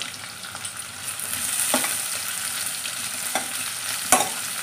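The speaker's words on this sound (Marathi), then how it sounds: "कांदा चांगला परतून घ्यायचा आहे" Sliced onion sautéing in oil with mustard seeds, cumin and garlic for a spiny gourd sabzi, a steady moderate sizzle with occasional clinks of a spoon stirring in the pan, close and alone.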